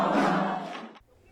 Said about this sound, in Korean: 환호성이 나왔습니다.